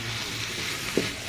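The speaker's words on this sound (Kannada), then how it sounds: "ಇವಾಗ ಅದಕ್ಕೆ ಟೊಮೆಟೊ ಹಾಕ್ಕೊಳ್ಳಿ, ಒಂದೆರಡು ಟೊಮೆಟೊ." Tomatoes dropped into a pan of roasting spices, frying with a continuous soft sizzle and a brief stir or clink near the end.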